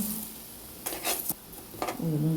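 Cumin, coriander seeds and mustard seeds roast in a pot with very little oil for curry leaf spice powder: a few quick scraping stir strokes over a faint, quiet sizzle, with a brief voice at the end.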